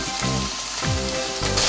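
Fish frying in a pan with onion and butter gives a steady, close crackling sizzle throughout, with faint tonal sounds in the background.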